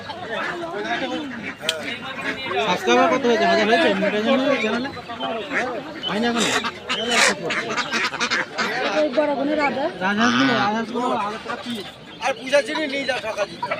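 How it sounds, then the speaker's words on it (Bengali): Geese and ducks at a busy poultry market in Krishnanagar honk and quack throughout, mixed into a dense crowd of nearby voices and constant talk. "এই জায়গায় রাজহাঁসও আছে পাতি হাঁসও আছে"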